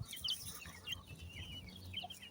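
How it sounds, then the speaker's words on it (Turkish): A rooster in a backyard flock clucking softly nearby in a few short, quiet calls, with light chirps from other birds in the background and no speech. "Bu da horoz."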